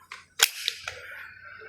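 A CZ Scorpion Evo 3 fires a single sharp shot while a red dot is zeroed outdoors, a close, brief crack followed by a short ringing tail and faint clicks.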